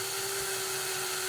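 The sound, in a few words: drill drilling out a rivet on a toy car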